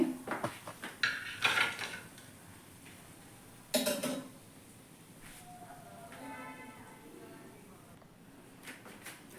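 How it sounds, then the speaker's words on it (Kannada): Corn pakoda served onto a plate, with a few clattering dish and utensil knocks, a sharp louder clink midway, and quieter kitchen handling between them. "ನೋಡಿ ಇವಾಗ ಪ್ಲೇಟಲ್ಲಿ ಸರ್ವ್ ಮಾಡ್ತಾಯಿದ್ದೀನಿ"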